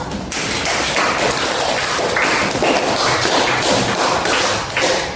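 A classroom group of students claps in applause for group 3, a dense, loud burst of many hands clapping together that holds steady for about five seconds.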